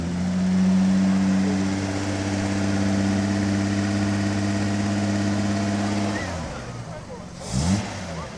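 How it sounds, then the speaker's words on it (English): An old car engine idles smoothly with a steady low hum for several seconds, then the tone shifts and fades as other noise moves in. "How smooth and sweet does that sound for such an old engine?"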